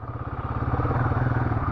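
A Royal Enfield Guerrilla 450 motorcycle is revved close by, its engine pulsing in a rapid rhythmic throb that climbs with a slight lag behind the throttle, heard alone.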